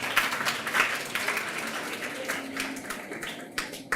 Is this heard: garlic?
no